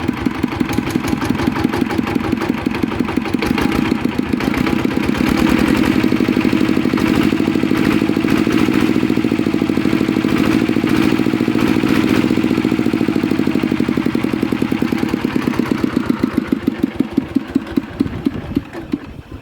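A small engine-driven water pump runs steadily at close range, a loud, even chugging engine drone with rhythmic clatter that holds constant for the whole stretch and tapers slightly at the end, with no talking.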